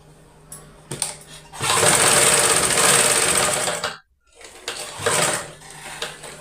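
An electric sewing machine stitches a blouse from a small piece of cloth, running in a fast close whir for a couple of seconds, stopping abruptly, then resuming in shorter bursts with faint handling noises.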